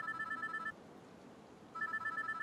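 A public phone booth rings in a video game's city street: a warbling electronic ring in two bursts separated by a short pause, clear against quiet ambience.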